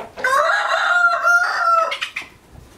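A hen in a farmyard setting around a house gives a loud, drawn-out call from close by while laying eggs. The single long, harmonic cackle lasts about two seconds and is followed by a brief trailing cluck.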